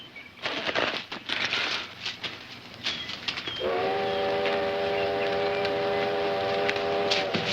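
A train draws near with rumbling and clatter, then a long steady whistle blast starts midway and holds at full volume to the end, no voices.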